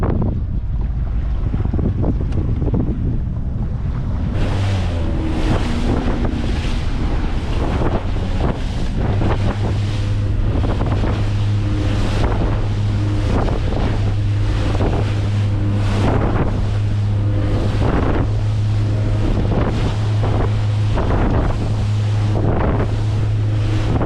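Strong wind buffets the microphone over open water while out fishing, with waves slapping and a low boat engine drone underneath, loud and constant throughout.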